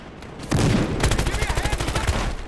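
Gunfire during a Battlefield Hardline team deathmatch, a sharp crack followed by a rapid string of loud, close shots rattling in quick succession for about two seconds, with a faint voice nearby.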